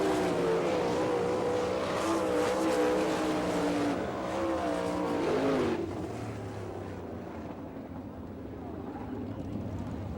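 Sprint race cars at Attica, Ohio, in an All Star Circuit of Champions heat race, scream past with rising and falling engine notes and a Doppler sweep, then fade to a distant drone as the group moves away.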